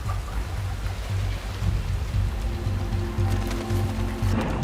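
Heavy monsoon rain falling over the Western Ghats in India, a dense, steady hiss of downpour with a low rumbling undertone, continuous and enveloping.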